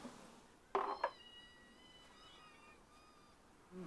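Cats and kittens in a shelter cattery, with one short meow followed by a longer, drawn-out mewing cry, heard faintly in a quiet room with no voices.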